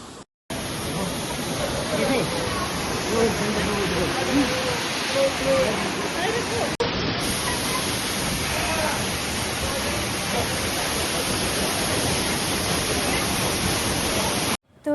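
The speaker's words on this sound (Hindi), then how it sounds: "तो सुना आप लोगों ने पानी का शोर, क्या ज़बरदस्त था ना।" A waterfall in Bir, Himachal roars as a dense, steady wash of water noise, loud and close, with a brief break partway through.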